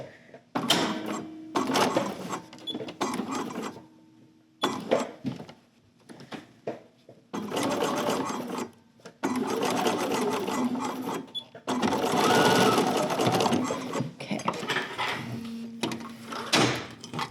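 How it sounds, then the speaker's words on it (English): A sewing machine stitches velvet for a 1920s cloche hat in loud, close bursts of rapid mechanical whirring, stopping and starting with brief silent pauses between runs. "I'm going to stitch across here, and then when I pull it across, I can make a little stitch across this."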